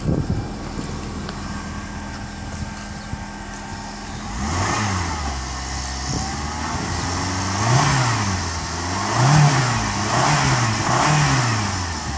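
A Saturn car engine is revved to roughly 2,500 rpm, rising and falling in several repeated surges after a quiet idle start, loud and close with some wind noise on the microphone.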